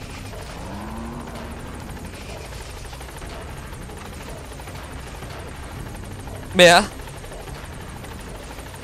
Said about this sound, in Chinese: 个直升机唔降落。